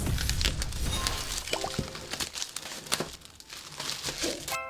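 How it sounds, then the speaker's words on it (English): Plastic shrink-wrap seal crinkling and tearing as it is pulled off a Toilet-bound Hanako-kun manga box set, a steady close run of rustling and crackling with sharper rips, no talking. "let's go ahead and get this bad boy out of the plastic."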